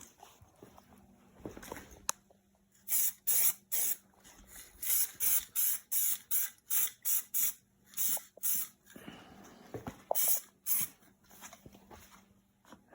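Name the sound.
spray painting a T86 overdrive transmission case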